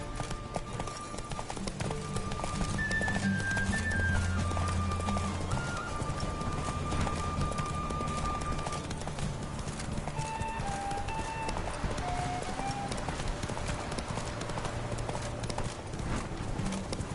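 A horse gallops in a video game, quick steady clip-clop hoofbeats running the whole time, close and prominent beneath layered game music tones.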